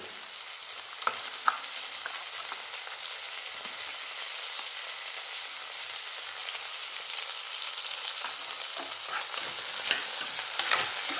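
Cauliflower, fresh peas and mixed vegetables cooking in oil for sabji give a constant close sizzle, broken by occasional light scrapes and ticks as they are stirred, with no voices.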